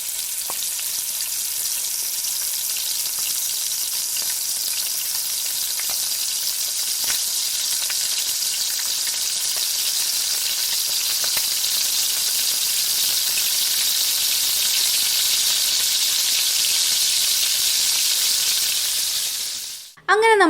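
Chicken pieces fry in butter and garlic in a pan with a loud, steady sizzle that runs unbroken for about twenty seconds, then stops abruptly just before a voice begins.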